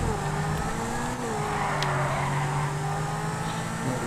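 A Zentorno supercar in GTA 5 races with a steady, sustained engine drone at close range, holding a continuous roar with slight pitch shifts and a brief tire squeal.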